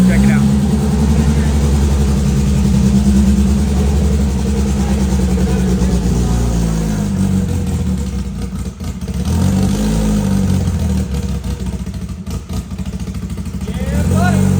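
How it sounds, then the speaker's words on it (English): A loud, rumbling race car engine runs close by at a race, idling roughly and revving in uneven surges, with people talking over it. "it sounds like we got Steven's car started"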